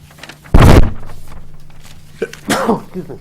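A single loud sneeze bursts out near the start of a conservation commission meeting, followed by quieter room murmur and a brief voice or thump afterward.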